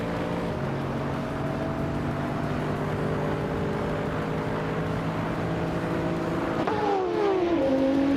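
A 2015 Toyota Corolla's engine droning steadily in a racing video game, with several held engine tones that climb abruptly near the end as the revs rise, loud and continuous without any voice.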